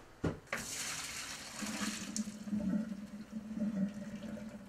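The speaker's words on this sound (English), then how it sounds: "Now we take our spaghetti and we drain it." Cooked spaghetti being drained, the water pouring out in a steady rushing splash into a sink after a short knock at the start, close and without speech.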